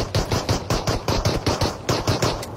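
Rapid automatic gunfire in the mobile battle royale game BGMI/PUBG Mobile, a fast, steady burst of loud, close shots with no pauses.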